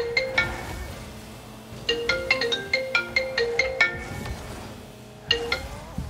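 A mobile phone ringtone plays during a Rocket League session, with a repeating melodic pattern of bright chiming tones in bursts, fairly close and clear over low background noise.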